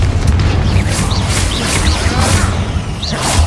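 Spell blasts from the Bombarda explosion spell in the Hogwarts Legacy video game go off one after another, with deep booms and crashing bursts over a low rumbling backdrop.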